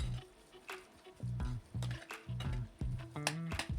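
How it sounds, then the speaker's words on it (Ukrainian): A spoon stirs green adjika mixed with salt, sugar, oil and vinegar in a bowl, giving a close, irregular series of wet scrapes and clinks. "Все дуже ретельно перемішую"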